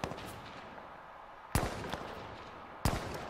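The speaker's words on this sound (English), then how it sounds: "Now he's firing a scout rifle at me" Two sharp scout rifle shots crack out in the video game H1Z1, spaced more than a second apart over a quiet background.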